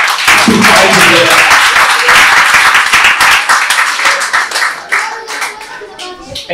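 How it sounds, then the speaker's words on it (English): A crowd claps loudly and steadily at a fight event in a ring, dense applause close up that thins and softens slightly toward the end. "Can you just clap your hands again a bit for surprising there?"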